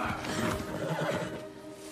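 A horse neighs loudly and close by in one drawn-out whinny that rises and then fades, with faint background sound behind it.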